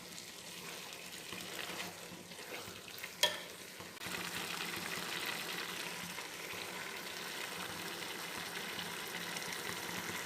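Grated carrots and sugar for carrot halwa sizzle and fry in a pan, a steady frying hiss with occasional stirring scrapes and one sharp clink partway through, fairly quiet and close with no talking.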